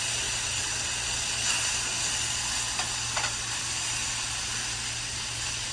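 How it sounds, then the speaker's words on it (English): Pork tenderloin sizzling on a 36-inch Blackstone griddle: a steady, broad frying hiss that stays even and fairly loud, with a few faint clicks and no talking. "It ain't gonna take long for this tenderloin to cook up."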